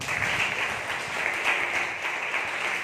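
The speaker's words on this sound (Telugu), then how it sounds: "ఒకసారి యేసయ్యకి చప్పట్లు కొట్టండి." A church congregation applauding during a Sunday service, with dense, continuous clapping from many hands, steady and moderately loud for the full stretch with no voices standing out.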